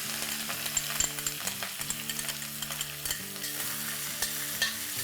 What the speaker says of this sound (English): I'm going to saute this for a minute on a high flame